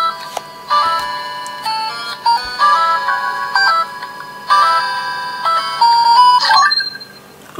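Electronic ringtone melody plays from a DX Zeztz Phone Kamen Rider toy, a bright, clear sequence of beeping tones in a repeating tune that cuts off abruptly near the end.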